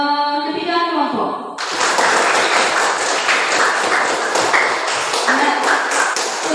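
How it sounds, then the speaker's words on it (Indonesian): A classroom of students applauding three presenting groups, a sudden burst of dense, close clapping that keeps going after a short stretch of speech at the start. "kita berikan aplaus untuk ketiga kelompok"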